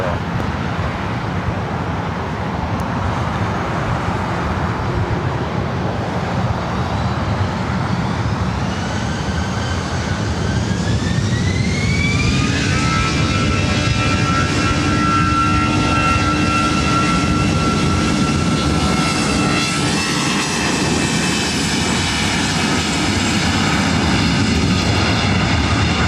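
A Delta jet takes off from runway 24 right at LAX. Its broad, steady engine roar builds into rising whining turbine tones that sweep upward and then hold, loud and close throughout.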